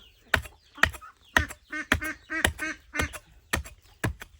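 Ducks quack repeatedly in a steady series of nasal calls, close by, with no talking.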